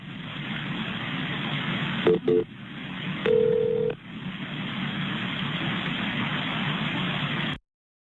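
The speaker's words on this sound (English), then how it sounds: "at least pick up the phone and make the call" Touch-tone telephone keypad dialed to place a call, a few short beeping tones heard faintly over steady background hiss on an old recording.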